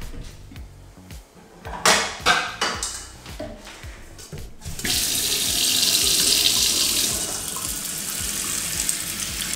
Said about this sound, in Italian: Riempiamo la pentola con l'acqua sufficiente per una persona